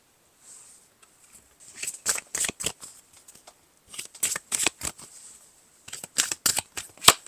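Tarot cards are shuffled up close in three quiet bursts of crisp riffling and slapping, separated by short pauses.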